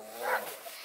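A four-week-old Redbone Coonhound puppy gives a single short, high yip-like bark at moderate distance, set against a faint background hiss.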